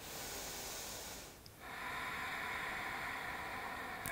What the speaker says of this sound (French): on inspire par le nez, donc toujours bouche fermée, on est d'accord, donc j'inspire.